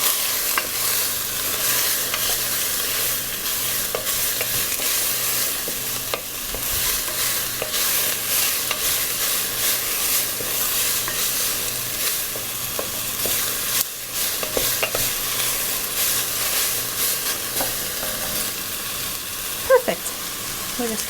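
Celery sautéing in a soup pot, stirred around with a wooden spoon; a steady soft sizzle runs throughout, with intermittent scraping and stirring clatter and occasional faint background noise.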